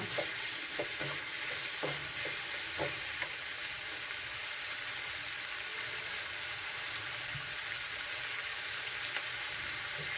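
Chicken frying in a pan for a nati-style chicken sambar, a steady close sizzle with occasional stirring knocks early on, no voices.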